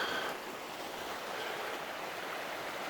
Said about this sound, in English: It's a really nice little river here.